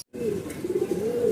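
A Rajshahi Giribaj pigeon gives one soft, continuous low coo, close by and alone, lasting just over a second.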